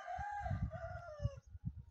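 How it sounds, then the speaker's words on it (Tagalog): A rooster crows once, close and fairly faint, in a drawn-out call, while low thumping handling noises sound underneath. "Ay manok."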